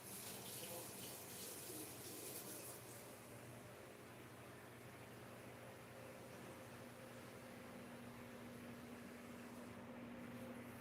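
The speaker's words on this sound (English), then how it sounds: "Here's some dog water." Tap water runs steadily into a dog's water bowl, a continuous close hiss and splash with no breaks across the whole stretch, a faint hum beneath it.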